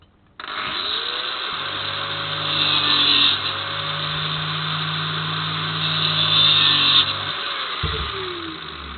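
A power tool whines steadily as it trims the points off fish-mouthed crash cage tubes for a 1250 Bandit motorcycle. It is loud and close, with a sustained grinding drone that holds for several seconds and then stops abruptly.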